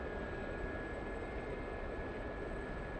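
A Gazelle helicopter's engine and rotor drone in a VR flight game, a steady, even whine and broadband roar with a sustained high tone, constant and unbroken.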